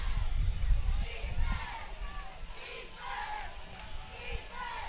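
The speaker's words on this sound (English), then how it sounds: "Really good Liberty Center Tiger crowd here on the home side" Home-side crowd at a Liberty Center Tigers high school football playoff game against Oak Harbor in a nearly full large stadium, a steady roar of cheering and shouting voices with swells of noise throughout.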